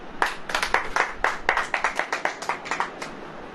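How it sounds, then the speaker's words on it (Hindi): A church congregation claps hands in a steady burst of many sharp, overlapping claps, fairly loud and close, with no talking. "ताली बजाओ"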